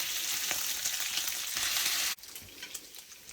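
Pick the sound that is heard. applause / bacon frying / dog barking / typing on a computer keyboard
bacon frying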